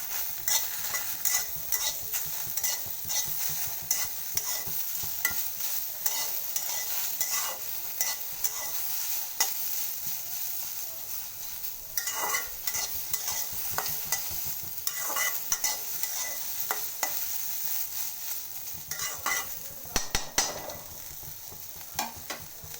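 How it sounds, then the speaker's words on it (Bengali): Raw onion fries in a pan, and a utensil stirs it with repeated scraping strokes over a steady sizzle, bursts of clattering activity coming in uneven waves throughout. "কাঁচা পেঁয়াজও এটার সাথে ভেজে নেবো"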